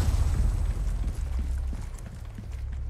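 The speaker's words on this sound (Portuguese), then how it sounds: "Agora, dá um tiro aqui nessa armadilha." A shot sets off a trap in Resident Evil 4 Remake, producing a dense, rumbling explosion with heavy low-frequency boom that gradually thins into a lingering roar over a few seconds.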